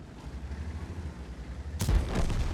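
A single deep cannon shot from a tank in an online tank battle game booms close and loud near the end, over a steady low engine rumble.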